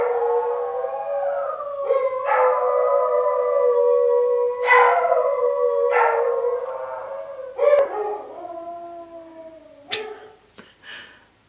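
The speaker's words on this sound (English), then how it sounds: "I got 4 dogs in the house and they're all howling at a siren." Four house dogs howl together in long, rising and falling wails in response to a passing siren, several voices overlapping close by, with one dog adding a last short howl as the chorus breaks up.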